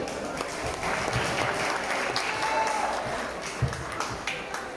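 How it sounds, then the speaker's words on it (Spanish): An audience applauds at a district dance competition diploma and award ceremony in Sonsonate, El Salvador, with steady, moderately distant clapping throughout. "Un fuerte aplauso para ellos."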